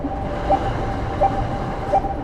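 A train rolls along with a low steady rumble, its wheels knocking in an even clack about every seven-tenths of a second, with no voices present.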